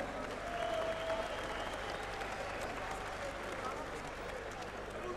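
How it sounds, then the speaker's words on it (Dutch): Applause from spectators after a match, a soft, continuous patter of clapping heard faintly at a distance, with some murmuring voices mixed in. "hartelijk applaus"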